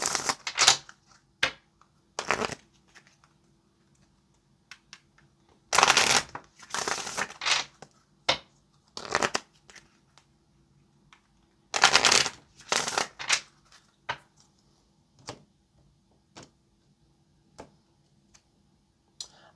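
Tarot cards are shuffled for a reading in short, crisp bursts of riffling and tapping, separated by quiet pauses, close and fairly soft.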